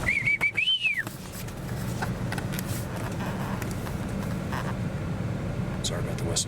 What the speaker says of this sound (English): Sorry about the whistles.